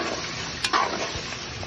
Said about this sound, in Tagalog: Igisa po natin siya ng mabuti.